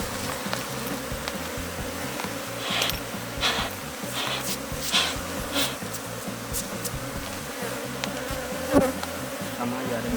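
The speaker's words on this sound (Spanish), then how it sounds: "vamos a vaciar estas abejas con cuidado acá" Dense, continuous humming buzz of many honeybees while bees are carefully shaken off a hive frame during a colony split, with scattered soft knocks and rustles of the frame handling, close and steady.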